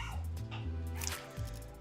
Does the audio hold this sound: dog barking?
yes